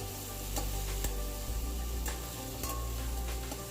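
Ginger garlic paste sautéing over medium heat in a pan for mutton kuzhambu, a steady close sizzle with occasional scraping stirs and clicks and no talk.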